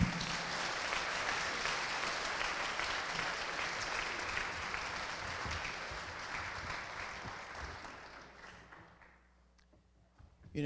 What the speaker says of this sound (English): So would you join me in another round of applause for her?